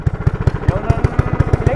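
Small 270cc engine on a motorized beer crate chugging close by at low revs, a quick, even thumping pulse with a rattly edge and no talking over it.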